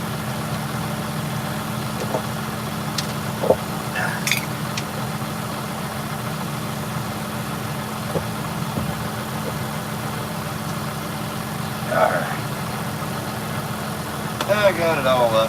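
Tractor engine idling steadily at close range while baling hay, a constant low rumble throughout with occasional clicks and clunks on top.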